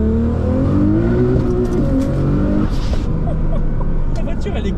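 A tuned 1,000 hp Nissan GT-R with a Liberty Walk kit accelerates from 0 to 100 km/h onto a highway, revving hard through the gears, pitch rising then dropping at each shift, close by, while people talk over it.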